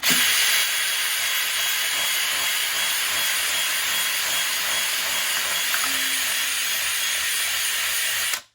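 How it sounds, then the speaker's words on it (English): A power drill with a brush attachment spins at high speed to scrub carbon off engine pistons, a loud steady whirring hiss that holds unbroken for several seconds before cutting off. "brush that goes right onto a drill bit goes right in there. So this thing is awesome. Set this sucker at high speed."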